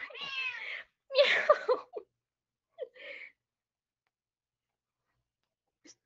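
A cat meows a couple of times, drawn-out and insistent, close by, then a short faint meow follows after a pause amid quiet.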